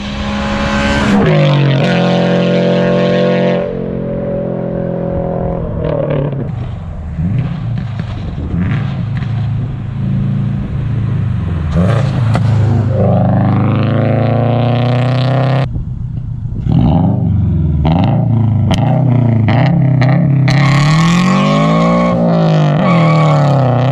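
Loud, raspy Toyota GR86 exhaust with catless headers revving hard through gear changes, with sharp pops and crackles between deep, aggressive bursts of acceleration.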